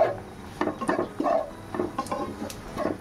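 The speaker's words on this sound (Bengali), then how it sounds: "এটা কাঁচা লঙ্কা কিন্তু লাল, একটু ফ্রাই করে নিচ্ছি।" Green chillies gone red fry in a pan, heard as soft scraping and stirring sounds of a utensil against the pan in irregular bursts over a faint background.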